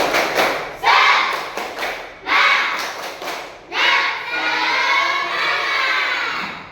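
A class of children shouts in bursts, clapping and thumping along in a quick rhythmic chant in a classroom, ending with a sustained cheer.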